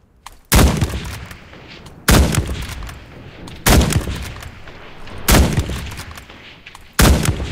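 Five sharp, loud Kar98k bolt-action rifle shots from Enlisted, evenly spaced about a second and a half apart, each with a short echoing tail and quiet gaps between.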